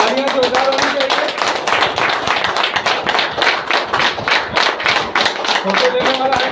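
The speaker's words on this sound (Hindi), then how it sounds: "तालियां जोरदार होनी चाहिए।" An audience at a product training event claps steadily and loudly throughout, dense overlapping applause with brief voices near the start and end.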